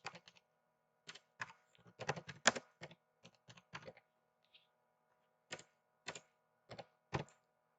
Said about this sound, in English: Go to the search bar and just type control panel.